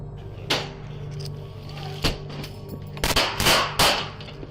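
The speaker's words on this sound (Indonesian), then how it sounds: "tiba-tiba terdengar suara tembakan" Several sharp gunshot bangs ring out at irregular intervals, a couple fired in quick succession, over a steady low background hum.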